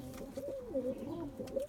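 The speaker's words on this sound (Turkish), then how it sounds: "Erkek ötüyor." Male breeding pigeon cooing close by in a loft, a series of soft, low, rolling coos rising and falling in pitch over a quiet background, with no voices.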